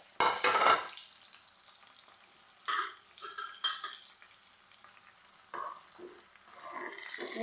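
A spoon scrapes and stirs through chana dal frying in a pan, making a few close, scattered scraping strokes over a soft, low sizzle.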